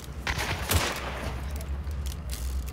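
Rapid gunfire aimed at a hive in Hunt: Showdown, a quick series of shots heard fairly far off and fairly quiet, over a steady low background rumble.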